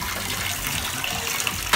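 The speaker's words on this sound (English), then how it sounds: "Oh, you fill up your water." Tap water runs steadily into a bathtub during children's bath play with animal toys and balls, a continuous close gushing wash with a small splash near the end and no talk over it.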